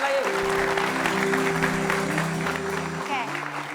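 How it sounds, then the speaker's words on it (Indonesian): An audience claps for a performer named Deden, with the crowd noise running under loud sustained music and voices. "tepuk tangan sekali untuk Deden"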